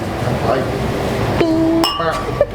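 Beer glasses made with locally grown hops clink together in a toast, a couple of bright glassy rings rising over background chatter and voices in a small brewery setting in Iwate, Japan.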